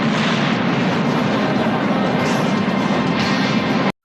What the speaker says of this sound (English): After a spectacular jump off some construction equipment, Guerrero crashes into a small island and kaboom.